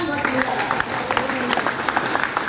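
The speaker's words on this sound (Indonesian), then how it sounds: "Tepuk tangan buat beliau." A crowd at a formal speech event breaks into a short round of clapping, with a voice carrying on faintly over the applause.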